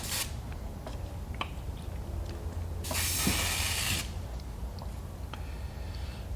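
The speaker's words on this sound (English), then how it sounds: "Give the airbrush a quick rinse." An airbrush sprays a burst of hissing air for about a second during a quick rinse, standing out against a quiet, steady background hum.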